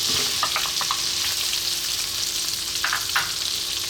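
Onion dropped into hot butter with cumin seeds sizzles steadily in a pan, a continuous close frying hiss with a few brief crackles and stirring clicks, no talk.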